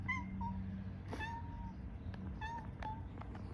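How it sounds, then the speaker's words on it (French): Pet cat outside a door meowing repeatedly to be let in, several short high cries spaced apart, faint and somewhat distant over a low steady background hum. "Il y a mon chat."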